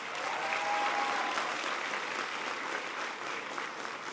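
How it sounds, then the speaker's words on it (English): Steady audience applause fills a large hall during a political speech on education, a dense wash of clapping from a big crowd at moderate distance, unbroken for several seconds. "Give them a big round of applause."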